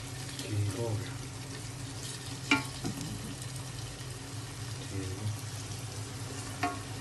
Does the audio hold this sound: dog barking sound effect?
no